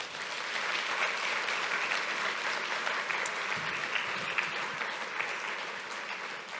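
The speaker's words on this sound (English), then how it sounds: "So I'd really appreciate it if you give them a round of applause as well." Conference audience at a summit in Belfast applauding volunteers, a steady wash of clapping from a large crowd heard at a distance, even in level throughout.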